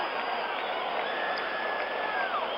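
A large baseball stadium crowd at a 1977 World Series game between the Dodgers and Yankees at Yankee Stadium swells into a broad, steady roar that holds at an even level throughout.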